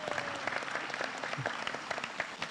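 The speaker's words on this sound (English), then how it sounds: "Let's clap kindly." Audience at a savings society annual general meeting clapping in a short, steady burst of many hands, moderately loud and continuous, with faint voices underneath.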